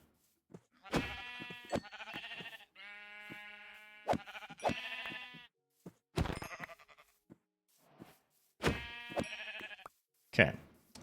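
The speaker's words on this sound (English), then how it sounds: "I'm gonna take this sheep out real quick" Sheep in the Minecraft video game give several short, clear bleats in a quiet scene, with soft knocks and clicks in between.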